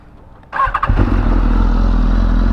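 BMW S1000RR motorcycle engine cranks and catches with a few sharp bursts, then settles into a steady, loud, close idle rumble with a constant high whine.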